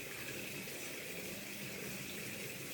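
Water runs steadily from an open tap on a Frisquet Hydromotrix gas condensing boiler, a constant, faint, even hiss with no pauses.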